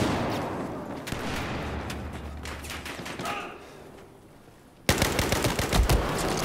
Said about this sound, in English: I hear some shots